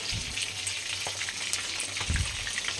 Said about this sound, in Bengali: এই মাছটা যা ফাটে না ওটাও তোলার সময় হয়ে গেছে যাই হোক ওটা লাল লাল করে ভেজে রাখছি